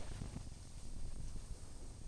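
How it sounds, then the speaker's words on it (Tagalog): Strong wind at a lakeside campsite at Lumot Lake in Cavinti, Laguna, heard as a continuous low, buffeting rumble against the microphone, fairly faint and gusting unevenly, with no voices. "ang lakas ng hangin"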